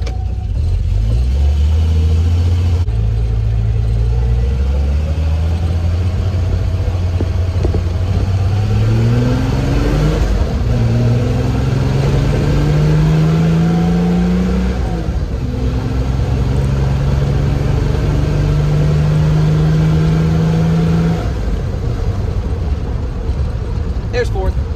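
An old car back on the road after 30 years is out on a test drive. Its engine drones loud and close, pulling through the gears with rising pitch and distinct shifts, and the hum never lets up.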